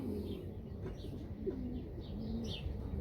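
Racing pigeon, a champion old bird, cooing with soft low repeated coos close by over a steady background murmur, a few faint chirps mixed in.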